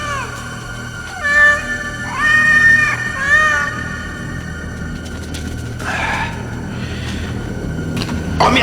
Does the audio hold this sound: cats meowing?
yes